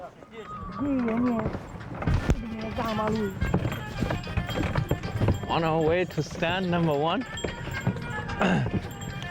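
Hooves clip-clop steadily under people talking, with a horse's sounds mixed into a busy outdoor scene.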